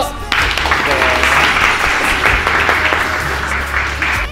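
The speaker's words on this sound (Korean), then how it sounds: "자 박수!" A small group at a jiu-jitsu gym claps in welcome for a visiting fighter, a burst of clapping starting abruptly and carrying on with some talk and shuffling underneath.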